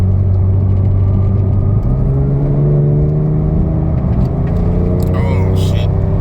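A Porsche 991 Turbo with a dry-sump Mezger race engine runs steadily up close, a deep droning idle that shifts pitch slightly partway through, with brief higher whirs near the end.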